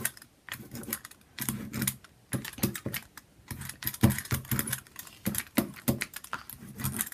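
A brayer rolling paint across paper, heard close as a series of sticky, crackling rolling strokes in uneven bursts with short pauses between passes.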